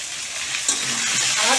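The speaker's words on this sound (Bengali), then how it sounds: "মিষ্টি কুমড়ো, পেঁপে, গাজর আমার আছে, আমি ভেজে নেবো" Pumpkin, papaya and carrot frying in hot oil over spiced tempering, a steady broadband sizzle throughout with a slight stir-like rise partway, continuous and fairly loud.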